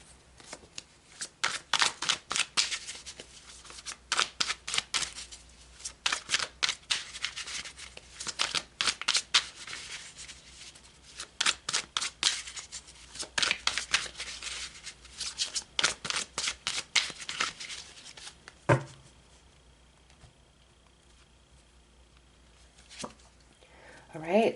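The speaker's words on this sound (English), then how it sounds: "let's pull some more cards" Tarot cards shuffled by hand in quick riffling bursts, close and fairly loud, repeating with short pauses, then a few soft thumps as the deck settles near the end.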